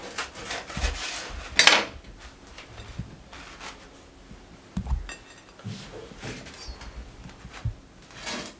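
A knife cuts through chilli cheese toast on a board: a few scattered, soft thuds and clinks, with one sharper knock near the start, against quiet kitchen background.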